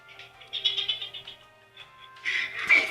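A house cat meows several times close by, drawn-out and tonal, followed by a louder, harsher yowl near the end.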